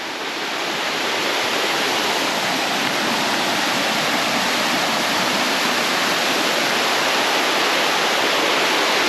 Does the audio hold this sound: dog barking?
no